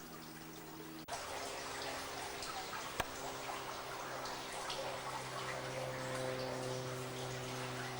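Water rushes through the north portal of Hardham Canal Tunnel in a loud, continuous roar that stays steady throughout, with one sharp click partway through.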